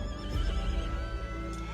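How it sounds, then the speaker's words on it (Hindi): A mare neighs in pain in a film scene, a loud, drawn-out whinny close by with no other voices. "ठाकुर को एक घोड़ी की दर्द भरी आवाज सुनाई दी"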